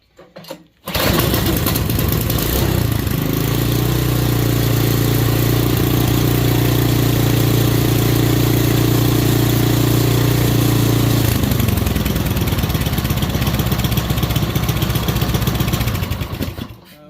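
A small gasoline snowblower engine, one of two free machines being fixed, starts up and runs loud and steady close by with a throaty low drone for about ten seconds, then eases to a lighter idle before cutting off.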